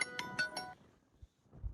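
A phone ringtone announces an incoming call from a sister, sounding as a short burst of bright, repeating tonal pulses that stops abruptly, followed by faint low thumps.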